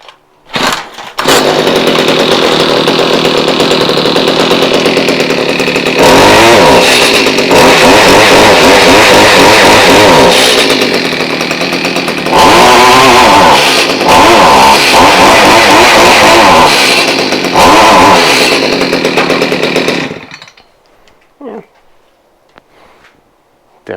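A Stihl chainsaw engine in need of tuning running loud and close for about twenty seconds, its rough roar surging through repeated revs before cutting off abruptly into quiet handling noises.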